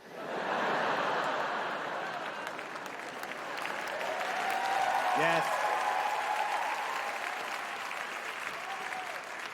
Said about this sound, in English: Thank you for clapping at my political gazebo material.